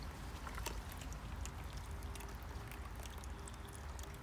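Water from a jug pours steadily into a WallyGro wall planter holding a calathea, a continuous low splashing trickle at moderate level, close by and without a break for several seconds.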